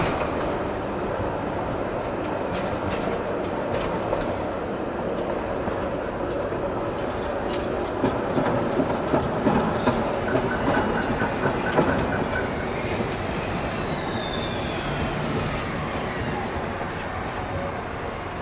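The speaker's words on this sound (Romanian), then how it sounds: "Deci tramvaiul ăsta zici că se rupe." A tram runs along its rails in winter city streets, a steady loud rolling rumble with rattling clatter and metallic squeals throughout, heard close by with no talk.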